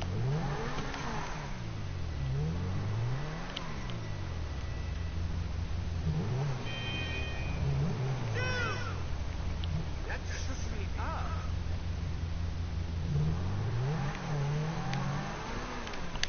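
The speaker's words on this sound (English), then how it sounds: "hear how loud this thing is?" The Zentorno supercar in GTA revs its engine repeatedly, pitch sweeping up and down in rising and falling surges that run continuously throughout, loud and close, with a person talking over it.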